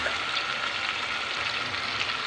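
Finely chopped tomatoes and spices frying in a pan for a potato curry: a steady, close, even sizzle that runs unbroken without any talking.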